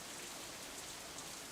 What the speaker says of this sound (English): I like rainy weather too. It's nice every once in a while. I wonder what it is about the rain.